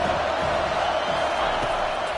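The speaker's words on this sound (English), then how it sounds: "Decibels rising as the crowd gets behind this defense on 3rd down" Football stadium crowd roaring for the defense on third down, a loud, dense, sustained wall of cheering and shouting that holds steady throughout.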